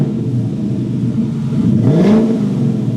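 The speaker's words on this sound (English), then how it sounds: "Rev it up a little." A car engine breathing through a classic-style muffler idles with a deep, steady rumble, then is revved once, with pitch rising briefly before settling back to idle.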